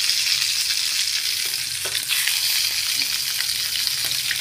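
Fish frying in a pan gives a loud, steady, close-up sizzle that hardly changes, with a few faint scrapes as the pieces are turned.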